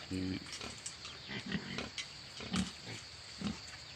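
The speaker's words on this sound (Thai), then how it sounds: "หมูกิน อาหารมักครับ" Pigs and piglets eat a fermented feed of banana stem and sugar, with a few short grunts and snorts spaced out over faint background noise.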